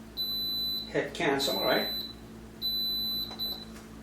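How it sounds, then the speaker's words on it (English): An Instant Pot pressure cooker beeps at the end of cooking boiled eggs, a steady high-pitched tone in two long stretches broken by someone talking close by. "Okay, the buzzer gone off"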